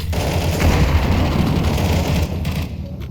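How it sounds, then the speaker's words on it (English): A grenade blast and rapid gunfire in a tactical shooter video game, a dense continuous barrage of booming shots lasting a few seconds, loud and up close with no talk. "Throwing a grenade."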